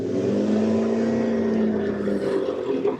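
Stock cars pulling away together on the formation lap at a racing circuit, a loud steady chorus of droning engines holding a low rumbling pitch, close and sustained with no speech.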